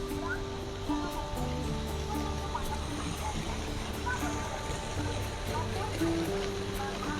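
A zoo water fountain shoots water upward, giving a steady, full rush of spray and splashing throughout, with a person talking over it.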